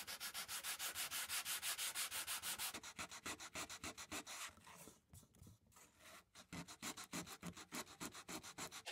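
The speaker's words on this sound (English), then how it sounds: "I want to sand it with 120 and then 220 to make sure I've got a nice smooth surface here" Wood is sanded by hand with 120 then 220 grit sandpaper on a sheet music cabinet being restored, giving steady, close back-and-forth rubbing strokes, fast and even at first, then briefer and more varied strokes with a short pause.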